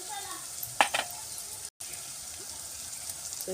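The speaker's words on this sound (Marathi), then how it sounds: "जरा भाजून घेऊया दोन मिनटं मसाला" Masala spices with turmeric and red chilli powder sizzle and roast steadily in a pan for dry bombil masala, a soft continuous fry with a brief stir-like burst near the start and a momentary dropout midway.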